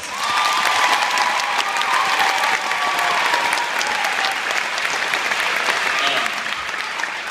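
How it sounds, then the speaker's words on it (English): An audience at a school district teacher-of-the-year gathering applauds honored teachers, a strong steady roar of clapping with scattered cheers and voices, sustained for about seven seconds before easing slightly. "We give them a round of applause"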